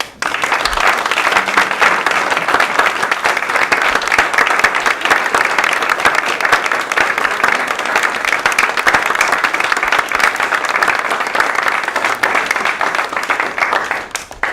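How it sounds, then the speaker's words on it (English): Steady, dense applause from a large audience, loud and continuous throughout with no pauses. "So we want to especially applaud those 6 people"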